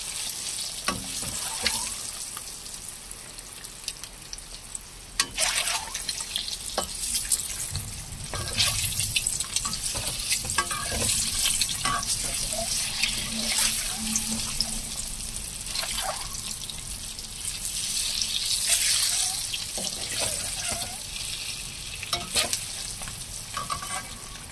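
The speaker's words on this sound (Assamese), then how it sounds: "অকণমান ভাজি ল'ম আৰু ৰংচুৱাকৈ।" Four eggs frying in a pan until golden, a long steady sizzle up close with repeated scraping of a spatula and a stretch of running water in the background.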